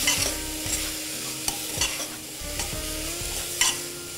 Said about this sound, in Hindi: एक बार इसे हम वापस स्टर कर लेंगे।